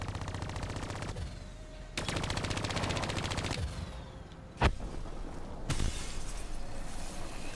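Rapid automatic turret gunfire in the Black Ops 3 campaign, loud dense bursts separated by brief pauses, with a sharp impact crack partway through and no talking.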